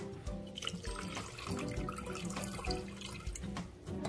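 Water pours and splashes steadily into a blender for a few seconds, close by, with a gurgling, bubbling quality.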